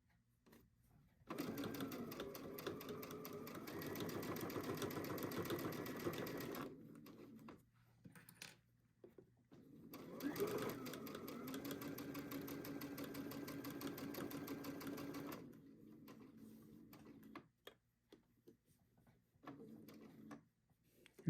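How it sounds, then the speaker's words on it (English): A sewing machine runs in two long steady stitching bursts while it sews over elastic on a fabric sleep mask, a close rapid whirring with short pauses and small clicks between runs. "You're sewing over the elastic right there, but you're making sure it's out of the way in the middle part."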